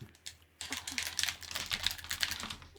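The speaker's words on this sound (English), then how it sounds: "I hear a lot of clicking when you hammer." Rapid clicking of controller buttons hammered during Sekiro: Shadows Die Twice gameplay, a dense run of sharp taps close up with no talk.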